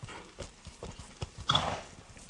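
Hooves clop irregularly on firm ground, several distinct thuds as a horse being broken shifts and moves under a rider, with a brief snort or whinny near the middle.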